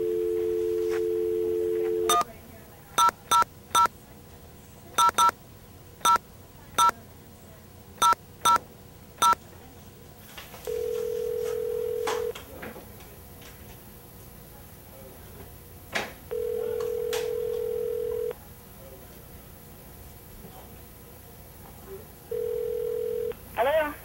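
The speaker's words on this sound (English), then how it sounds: "I figured I'd call her up on the phone and see if maybe she wanted to rehearse over the phone" A telephone call placed by hand: a steady dial tone, then a rapid series of touch-tone dialing beeps, followed by repeated ringback tones at regular intervals, clear and close.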